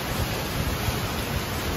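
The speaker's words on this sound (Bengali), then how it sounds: "কি সুন্দর বৃষ্টি পড়তেছে" Steady, dense rain falls outdoors, a continuous even wash of hiss with no breaks, fairly loud and close, and no one speaking.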